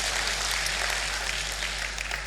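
Church congregation clapping for Jesus during a sermon, a continuous wash of many hands, moderately loud and steady with no talking.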